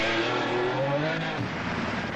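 Factory Porsche rally cars on the 1985 Paris-Algiers-Dakar desert rally produce a brief, fairly faint engine drone that shifts pitch as they drive past.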